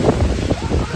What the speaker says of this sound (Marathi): कसलो वारो मारता.